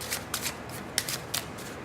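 A Bicycle Karnival gold-back playing card deck being shuffled, quick soft riffling bursts in several short clusters, close and fairly quiet.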